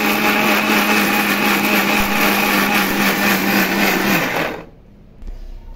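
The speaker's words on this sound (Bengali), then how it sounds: "ওকে আমি ব্লেন্ডার করি এখন আদা রসুন পেঁয়াজ" A kitchen blender grinds ginger, garlic and onion in a steady, loud high-pitched whir that runs for about four seconds, then cuts off abruptly, leaving a quiet room.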